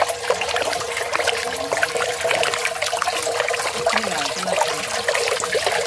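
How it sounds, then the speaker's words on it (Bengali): Borhani yogurt drink strained and stirred by hand, a steady watery splashing and trickling of liquid pouring through, continuous and fairly close with no talk. "সুন্দর করে ছেঁকে ছেঁকে হাত দিয়ে নেড়ে নেড়ে এখন যেটা যাচ্ছে সেটা হচ্ছে একদম পিওর বুরহানি।"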